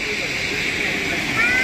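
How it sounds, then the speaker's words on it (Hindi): A river waterfall pours a full flow of water, giving a steady, dense rushing roar close by that holds evenly throughout and swells slightly near the end. "ये देख लो भाई, ये है वाटरफॉल, पिछली बार जितना ही पानी है"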